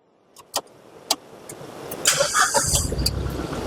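A Tata Yodha 4x4 van built into a custom off-road caravan starts up: a few sharp clicks, then the engine catches and settles into a steady, fairly loud idle, with no talk over it.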